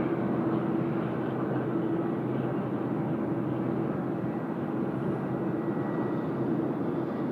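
Jet airliner, a United Boeing 787 bound for Los Angeles, taxiing out on the ground at Sydney Airport, giving a steady, continuous engine rumble with a faint whine held at even loudness throughout.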